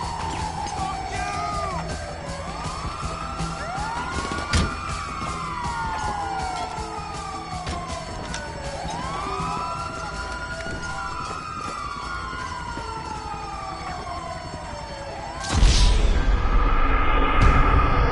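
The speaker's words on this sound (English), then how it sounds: "Oh, it's the ambulance!" Ambulance siren in the video game Grand Theft Auto V, a loud wailing tone sweeping up and down repeatedly for about fifteen seconds, then cut off by a sudden burst of louder broadband noise near the end.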